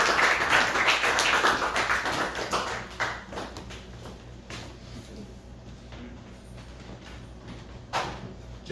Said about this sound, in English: give a big round of applause right now for James Gordon